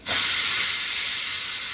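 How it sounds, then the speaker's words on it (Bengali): A pressure cooker releases steam in a loud, sharp, continuous hiss that starts abruptly and holds steady at close range. "এবার কি জল দিয়ে প্রেশার কুকারে দিয়ে দেবে"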